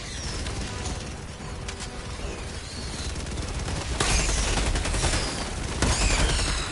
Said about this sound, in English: I'm gonna throw in this Gatling gun